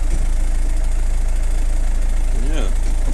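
Farm machine engine running steadily just after an oil service, a loud close idle with a low rhythmic throb throughout, and a voice briefly audible over it.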